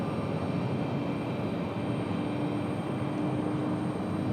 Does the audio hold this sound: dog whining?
no